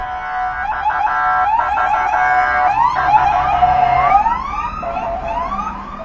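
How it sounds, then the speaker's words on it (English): Several police sirens wail and yelp at once, overlapping in rising and falling sweeps, fairly loud and steady throughout. "See all these police cars and sirens?"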